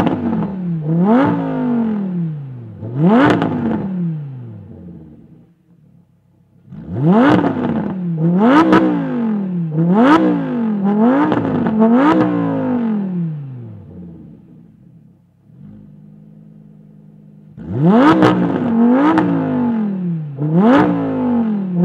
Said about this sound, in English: I'll put it in Sport and Rev, and then I'll put it in Corsa so you can hear what it sounds like just standing still